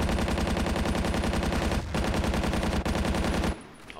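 Rapid video game gunfire from a sidearm rattles in continuous fast bursts with two brief gaps, loud and close, then stops near the end.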